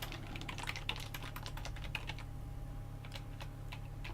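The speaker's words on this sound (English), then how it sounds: "If I can type properly," Keys clatter on a computer keyboard during a programming session, a quick run of close, crisp keystrokes for about two seconds, then a few sparser taps over a steady low electrical hum, with no talking.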